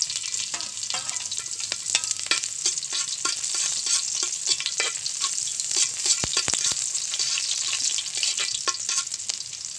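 Chili tossed into a pan of frying exotic shrimp, crackling in a steady dense sizzle with scraping stirs throughout, close and loud with no voices.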